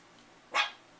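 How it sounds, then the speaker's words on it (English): A pet dog barks once indoors, a single sharp, fairly loud bark near the middle of a quiet moment, with no talk over it. "Don't bark."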